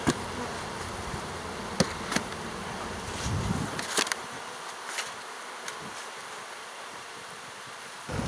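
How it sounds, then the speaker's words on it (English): A honey bee swarm flies back into its hive outdoors, a steady close buzzing hum from many bees with occasional soft bumps and rustles. "the other bees are now swarming to the hive, so they're flying back to the hive"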